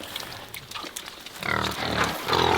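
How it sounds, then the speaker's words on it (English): Several pigs grunt and snort around a muddy wallow where they cool off, the grunts irregular and close, growing louder and busier toward the end. "are some very happy pigs"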